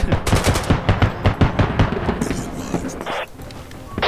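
Rapid bursts of automatic gunfire crack repeatedly in dense volleys in the video game Squad, loud and close, with a voice talking briefly underneath.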